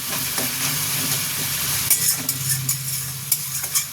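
Lentil mixture with tomato and green chilli stir-fried in a pan for dal dhoka, giving a steady low sizzle with scraping stirs and a few soft utensil clinks, close and continuous with no voices.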